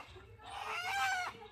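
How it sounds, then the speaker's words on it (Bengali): A rooster squawks loudly while being caught in a village yard, giving one harsh, continuous outburst of about a second close to the listener. "দেখতে পাচ্ছ মোরগটা ও চিল্লাচ্ছে।"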